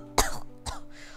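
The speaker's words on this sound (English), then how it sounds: "He abruptly coughed" An abrupt cough bursts out, then a second, softer cough or throat-clear follows about half a second later, close and alone with no talk.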